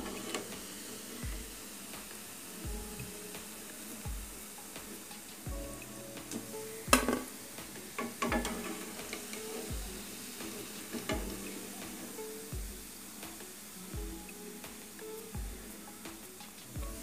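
Bread gulab jamun balls fry in hot oil with a steady, soft sizzle broken by scattered crackles and pops, heard close up with no one talking.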